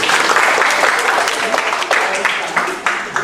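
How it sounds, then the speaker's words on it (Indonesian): An audience in a lecture hall claps together, loud and close, a thick burst of applause lasting a few seconds with talk faintly underneath. "Tepuk tangan Anda."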